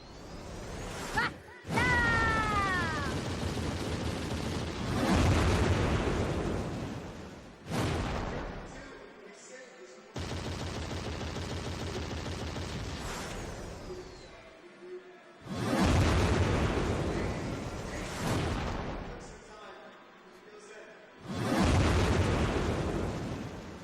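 Shots and blasts in the Hyper Princess Pitch video game: repeated booming explosions and whooshing fire, some with descending zaps, layered over game music in loud bursts separated by brief silent gaps.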